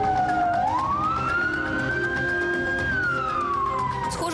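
An emergency vehicle siren wails nearby in city traffic, one loud, smooth tone sweeping up, holding, then sliding down, with a steady road rumble underneath.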